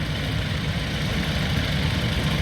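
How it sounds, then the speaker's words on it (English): A 1950 Ferguson 20 diesel tractor engine runs at a rally, a steady, loud, low idling rumble that holds without a break and with no voices over it. "which is the 1950 Ferguson 20 diesel"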